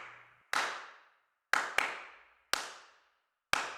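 Sampled hand claps from the El Clapo clap plugin, set to a single clapper: five sharp, roomy claps in an uneven rhythm, each ringing out briefly before silence.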